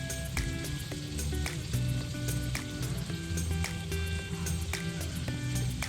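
Mushrooms and potatoes cook in butter and white wine with a close, constant crackling sizzle and scattered popping, alongside faint sustained musical tones.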